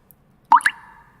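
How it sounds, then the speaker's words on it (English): A single water drip lands close and clear in silence, a sharp double plop with a short ringing tail that fades quickly. "As his drip continues,"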